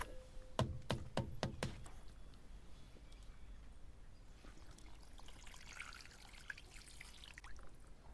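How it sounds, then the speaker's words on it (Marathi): Raw mutton being washed by hand in water, village style, with a few sharp splashes and pours early on, then a steady soft trickle and dribble of water running throughout. "इकडे हे मटणाला अगोदर धुवून घ्यायचं आहे।"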